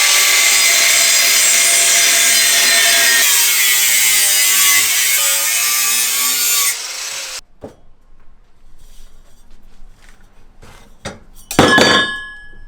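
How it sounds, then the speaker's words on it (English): An angle grinder cuts through metal exhaust tubing, heard as a loud, steady high-pitched grinding whine for several seconds that then stops, followed by scattered metallic clinks and scraping. "we're doing this with an angle grinder because that's all we have"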